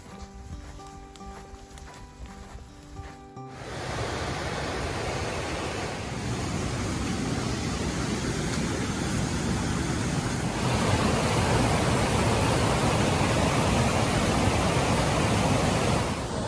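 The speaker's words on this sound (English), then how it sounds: "we're on our way to a waterfall" Steady broadband rush of water from a waterfall, loud and continuous, growing slightly stronger partway through after a quieter opening with faint background tones, with no talking.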